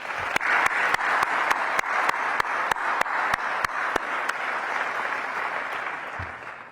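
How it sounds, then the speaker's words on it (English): An audience at the Washington DC Economic Partnership annual meeting applauds the event staff. Broad, sustained crowd clapping is punctuated by a sharp, evenly spaced rhythmic clap for most of its length, then gradually thins out. "can we applaud, and a hearty applause, please, the dedicated event staff"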